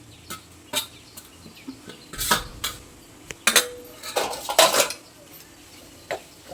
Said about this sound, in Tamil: இது இடையில வந்து ஒரு ஃபைவ் மினிட்ஸில் இப்படி கிளறி விடுங்க